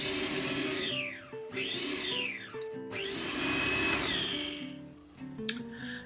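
A food processor pulses cold cubed butter into flour in short whirring bursts, four spins that rise and fall with brief pauses between them, close and fairly loud.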